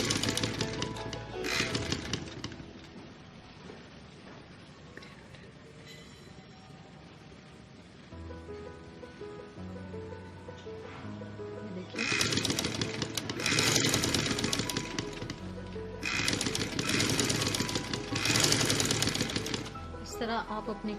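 A sewing machine stitches lace onto the hem of a girl's box-pleated frock, running in loud rapid bursts separated by quieter pauses, close by, with a voice speaking between runs.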